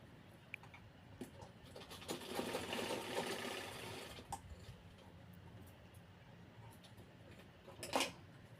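A sewing machine stitching a belt onto a dress made from a Paithani saree, running in a quiet, rapid ticking stretch that swells for a couple of seconds, with faint clicks and a brief louder burst near the end.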